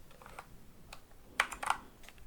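Keys clatter on a computer keyboard with Japanese keycaps in a quiet room, a few soft taps first and then a quicker burst of sharper, closer clicks, with no voices.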